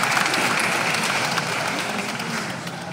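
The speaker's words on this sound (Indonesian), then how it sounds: "Kita tepuk tangan untuk Romo Eman." An audience at a priests' ordination jubilee celebration applauds steadily for about three seconds, a dense wash of many hands clapping at once with no pauses.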